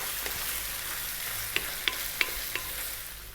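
Cooked pasta shells being stirred around a pan for creamy spinach turkey pasta, giving a soft steady sizzle with a few sharp scrapes and clicks of the spoon in quick succession, close and fairly quiet.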